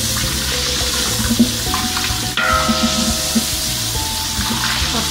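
Onions frying in a pan on high heat until golden brown, for chickpea pulao: a steady crackling sizzle with a few stirring knocks and a brief tap-water rush in the background, no voices.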